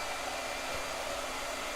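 A blow dryer runs steadily throughout, a constant close broadband airflow roar with a low motor hum and no talk over it.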